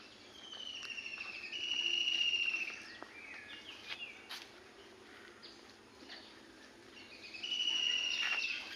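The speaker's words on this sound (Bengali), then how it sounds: "পাখিদের কিচিরমিচির শব্দ, চারিদিকে মুখরিত" Morning birds chirp and trill in the open, with bright whistled calls rising in two louder bursts at the start and end, set against a steady bed of insect buzz and faint chatter.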